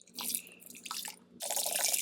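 Coffee machine descaling solution pours from a bottle in a thin liquid splash and trickle that starts, pauses briefly, then resumes steadily and close.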